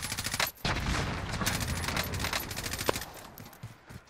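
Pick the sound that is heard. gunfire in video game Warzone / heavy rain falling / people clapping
gunfire in video game Warzone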